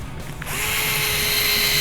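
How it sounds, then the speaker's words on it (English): A power drill runs a screw into a Tekno NB48 2.1 RC buggy build, whirring steadily for just over a second after a brief quiet start. The sound is close and isolated. "Running in just a little with the drill."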